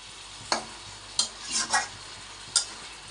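Spicy goat meat coated in masala is stirred in a pan. Several distinct, close scraping strokes cut through a soft, continuous sizzle, with no voices.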